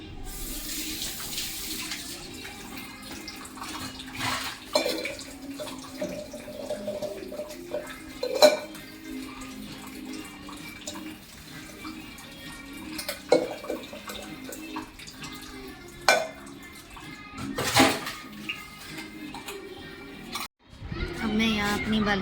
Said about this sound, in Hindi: किचन साफ़ करने के बाद मैं सारे बर्तन वगैरह जितने भी फैले हुए हैं इधर से उधर वो साफ़ करूँगी